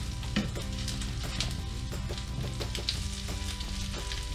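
Bluefish cakes sizzle steadily in a hot pan just after being flipped, a close, continuous frying crackle with scattered pops and no voices.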